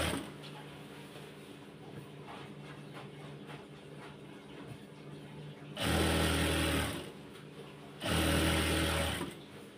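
A sewing machine stitches piping onto the side of a kameez in two loud, steady whirring runs of one to two seconds each, set against a low background hum.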